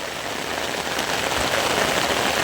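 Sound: heavy rain falling in a village

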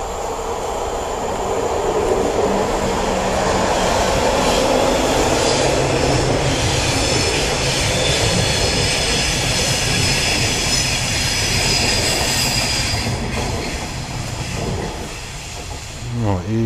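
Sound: train passing by

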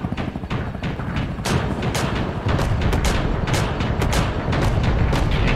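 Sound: 40mm cannon rapid firing in Carrier Command 2 video game

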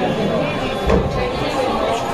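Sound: crowd of people gathering at night

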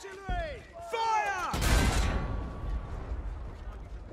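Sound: artillery firing in Battlefield 1 video game

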